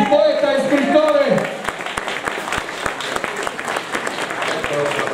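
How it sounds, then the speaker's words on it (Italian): An audience at a small evening concert applauds a poet and writer, following a stretch of speech at the start; steady, moderately loud clapping with distinct individual claps fills the rest. "un applauso a Giuseppe Girardi, poeta e scrittore"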